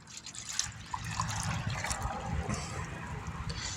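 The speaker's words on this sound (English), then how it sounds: "So you're gonna pour off your water" Muddy water is poured off a gold pan while prospecting, a soft, close trickling and splashing of liquid running continuously at low volume.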